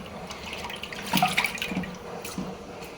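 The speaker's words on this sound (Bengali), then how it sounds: "ধুইতেছি মাছ, ধোয়াই হচ্ছে না মনে হইতেছে" Small kachki fish are rinsed under running water, with a steady splashing flow and a brief louder burst of swishing and clinking in the middle.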